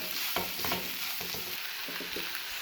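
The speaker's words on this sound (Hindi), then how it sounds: "अब इसमें ऐड करेंगे प्याज, मिक्स करेंगे।" Onions are stirred into a sizzling mixture in a frying pan for chicken pizza cutlets, a steady fry hiss broken by a few rhythmic scraping strokes of the spoon.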